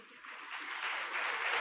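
Women in an audience at an event in Ujjain break into applause, a soft clapping that swells from quiet to moderate over a brief moment, ending with a sudden knock.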